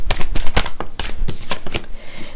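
Tarot cards handled and shuffled by hand, a quick run of crisp riffling snaps and slaps close up, with no speech.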